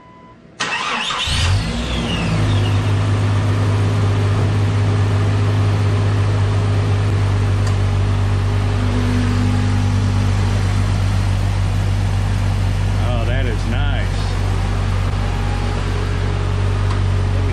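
A 1998 Jeep Cherokee XJ's 4.0-litre inline-six engine, with a newly replaced cracked exhaust manifold, cranks briefly, catches and settles into a steady, loud idle that runs on unchanged, with no talking.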